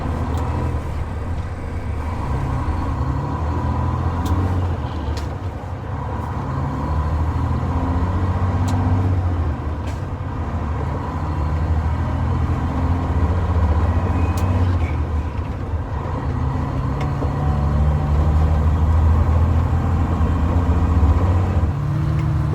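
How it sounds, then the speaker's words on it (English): A semi truck hauling soybeans to a grain elevator drones along at steady speed, its low engine rumble and road noise filling the cab continuously, with an occasional faint rattle. "You'll be riding along with me in the semi on the way to the elevator to dump beans."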